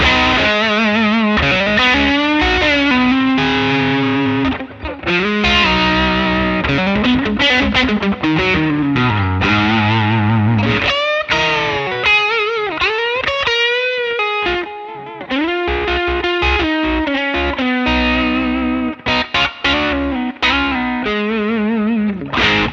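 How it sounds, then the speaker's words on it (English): Electric guitar played through a Nux Trident, a tube screamer into a Twin Reverb amp sound with spring reverb, giving a bluesy, overdriven tone. Loud continuous playing of chords and melodic runs with brief pauses, alone without talk. "I use a tube screamer in the front of the twin reverb and a spring reverb"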